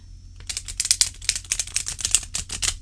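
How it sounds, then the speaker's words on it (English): A deck of Messenger Oracle cards is shuffled by hand, giving a close, rapid run of crisp flicking clicks that lasts a few seconds with no talking. "I'm just shuffling cards"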